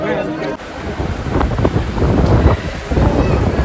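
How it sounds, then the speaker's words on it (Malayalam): Heavy rain and gusting wind at the Wagah border, buffeting the microphone in a loud, continuous broadband roar with no break. "നമ്മൾ ഇറങ്ങിയപ്പോൾ അടിപൊളി മഴയും കാറ്റുമാണ്"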